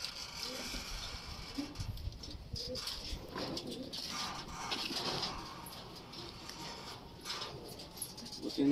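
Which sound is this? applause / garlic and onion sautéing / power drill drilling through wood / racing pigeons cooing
racing pigeons cooing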